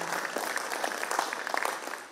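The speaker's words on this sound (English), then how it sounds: "Please give them a big round of applause." An audience at an alumni silver jubilee meet applauds with a dense, even patter of many hands clapping throughout, fading slightly at the end.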